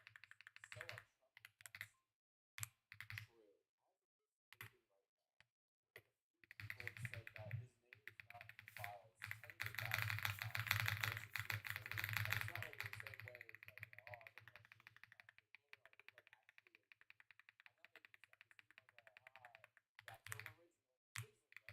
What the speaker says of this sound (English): The worst part of this counter is that I have to manually type it.